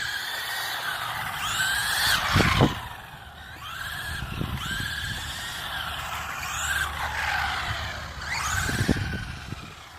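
A WLToys A959 RC car slides across pavement, its electric motor whining in rising and falling sweeps with a few sharp scuffing bursts of tires skidding, fairly close and loud with no talking.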